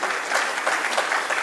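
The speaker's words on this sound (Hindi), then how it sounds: "आइए मिलकर तालियां बजाते हैं शंभू शेखर" A crowd at a Hindi comedy poetry show claps in welcome for Shambhu Shikhar, a brief burst of steady, full applause with no voices over it.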